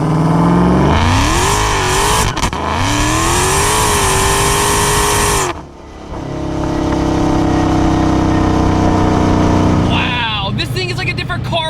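A roaring Dodge Demon of about 1000 hp accelerates hard through the gears, its engine pitch climbing and dropping at each shift, loud and close, with a brief lull before the engine swells again.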